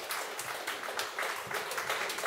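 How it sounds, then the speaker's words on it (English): An audience gathered in a room with a fireplace gives itself a round of applause, many hands clapping in a fairly quiet, even patter heard from a little distance for a couple of seconds. "Give yourselves all a round of applause."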